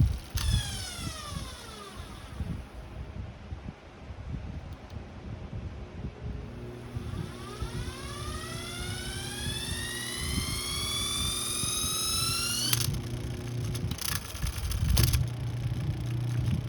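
An antique Delco electric motor, freshly repaired, spins in reverse with a loud rising whine that climbs in pitch as it speeds up, falls away, then winds up again over a rumbling hum with some rattling.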